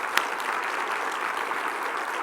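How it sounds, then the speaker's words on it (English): Audience at a summit event gives a steady round of applause, dense clapping filling the room without a break. "She deserves a round of applause."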